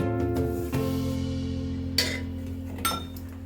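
Sugar being stirred into milk in a pan for a dessert, with a few metallic clinks and scrapes of a spoon against the pan over a steady hum.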